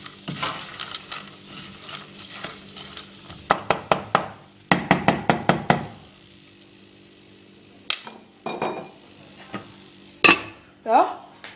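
Popcorn pops and is stirred in a pot: clusters of sharp, rapid clicks and knocks come in bursts, with scraping stirs and gaps between, close and with no talk.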